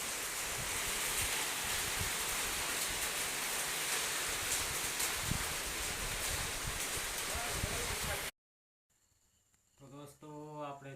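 Heavy rain pours down in a dense, steady roar with some wind buffeting the microphone. It stops abruptly and is followed by a few seconds of quiet talking.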